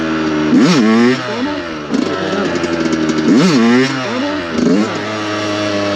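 A Yamaha YZ 125 motocross bike revs in second gear, its loud two-stroke engine close by, rising in sharp bursts and dropping back in a repeated blip-and-brake rhythm.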